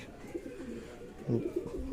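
Low, throaty cooing from fancy pigeon chicks rises and falls in a few short bursts, close and fairly quiet.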